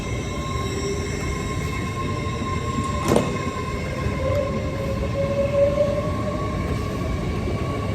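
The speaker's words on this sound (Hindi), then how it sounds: "और ट्रेन चली जाएगी, हम खड़े रहेंगे इधर ही।" A train pulls out of the station at Peterborough, a steady rumbling drone with sustained tonal hum, a sharp clank near the middle and a faint rising wheel squeal afterward, heard without talk.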